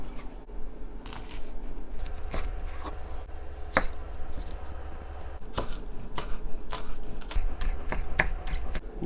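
A kitchen knife thinly slicing the white part of an onion on a cutting board for gyudon, giving a steady run of crisp, close taps and cuts with no talking.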